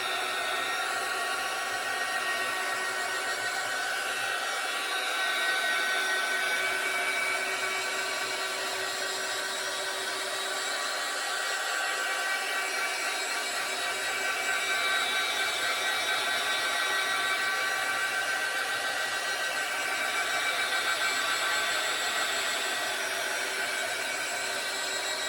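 A hair dryer runs continuously to dry a homemade sweet treat, giving a steady, close airy roar with only slight swells in level throughout.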